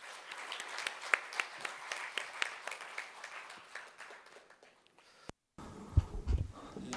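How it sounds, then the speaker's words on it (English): An audience at a peace cities forum gives a burst of scattered applause that thins out, and a short gap follows before other noise resumes. "please welcome him with a big round of applause"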